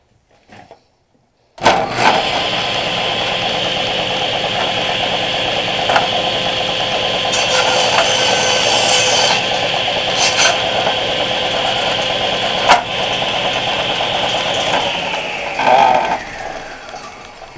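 A power tool cuts steadily for roughly fifteen seconds while a winch is being repaired, a loud continuous whine and grind with small clicks and surges, starting abruptly after a brief quiet and stopping near the end.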